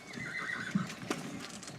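A mare with her foal whinnies loudly and close by while being loaded, and hooves clop on a hard surface around the calls.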